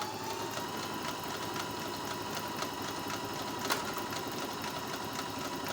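A Singer SS91DX sewing machine runs at full speed, stitching with a steady, dense mechanical whir and fast needle chatter, close and continuous throughout with no talking.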